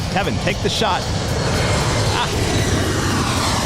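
An Embraer jet airliner rumbles past at LAX as a steady broad roar that holds throughout, with people talking over it near the start.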